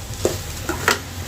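Red leafy greens and shrimp in hot oil give off a quiet sizzle with a few brief stirring scrapes and clinks, close by with no talk.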